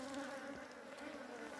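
Honeybees swarm and buzz steadily at an apiary where propolis is being collected, a dense continuous drone close to the ear with no pauses.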